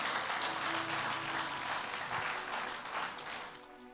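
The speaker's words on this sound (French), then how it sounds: "Si tu veux acclamer, acclame le Seigneur pour eux." A church congregation applauding at a deliverance and restoration evening service, sustained dense clapping with some cheering that fades slightly toward the end.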